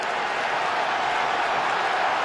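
Stadium crowd noise at an NFL game between the San Francisco 49ers and Detroit Lions, a constant broad roar of many voices filling the whole stretch without letup.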